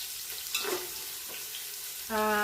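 Onions frying in hot oil for biryani, a steady faint sizzle with a brief stir sound, then a louder tonal hum or beep near the end.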